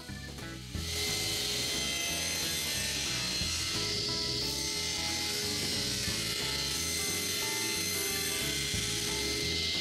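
A tilted table saw blade set at 45 degrees cuts boards at an angle: a continuous whining motor hum with steady rasping and scraping texture, running without pause for the whole stretch.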